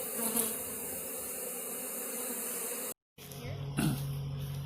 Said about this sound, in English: She showed me there was a swarm going on.